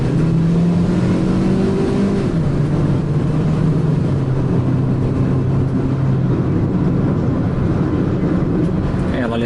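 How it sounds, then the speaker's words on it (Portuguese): A Hyundai Creta 1.6 16v engine drones loudly at high revs on a highway, a steady roar with rising and falling tones beneath road and wind noise, with someone talking over it. "Ela levanta bastante o giro, o motor fica bem ruidoso"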